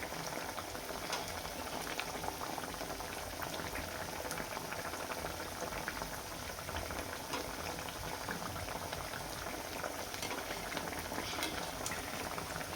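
Sabudana vadas deep-frying in hot oil over a high flame: a dense, even bubbling roar with fine crackles scattered throughout, steady and close for the full length without talk.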